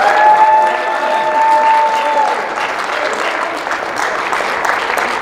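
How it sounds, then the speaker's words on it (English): An audience claps in a sustained round of applause at a meeting of NFL mothers with student-athletes and parents, dense and loud from start to finish, with a voice briefly audible under it at the outset. "Let's give them a great round of applause."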